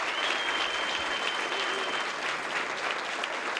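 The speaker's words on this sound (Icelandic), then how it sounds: "klappið fyrir ykkur" Audience applause at a talk, a thick continuous roar of many hands clapping at an even level for several seconds, fairly close and unbroken.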